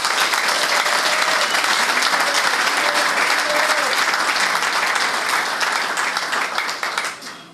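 Loud, dense applause from a conference audience at a debate session in the DRC, sustained and steady for most of the stretch before tapering off near the end.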